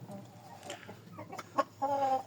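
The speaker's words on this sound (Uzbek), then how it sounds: "Mana tovuqlar." Chickens cluck softly nearby, with a few brief calls and one louder, drawn-out squawk toward the end over faint background noise.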